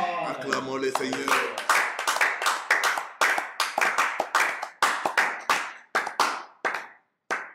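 A church congregation claps in unison during prayer, loud, sharp rhythmic claps at a steady beat that thin out and stop near the end, with voices underneath at first.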